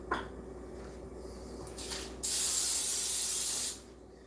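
A spray bottle fires a short puff and then one long hissing burst of about a second and a half, loud and close, with low background noise and no talk.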